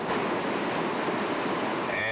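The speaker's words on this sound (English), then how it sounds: "all that water pouring over a huge rock, making these two hydraulics" Whitewater rapids on the Gauley River roar steadily as water pours over a huge rock into two hydraulics, a loud continuous rushing wash heard close with no pauses.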